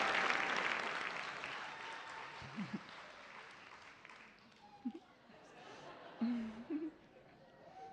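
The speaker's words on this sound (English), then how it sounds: "Let's give him a big round of applause" Audience applause at a Celebration 2024 cultural gathering, a broad wash of clapping loudest at first and gradually thinning, with scattered voices calling out over it.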